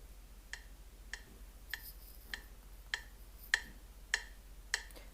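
Metronome clicks at 100 BPM in 3/4 time, a steady run of sharp, quiet ticks about 0.6 seconds apart, some louder than others, over a faint background hum.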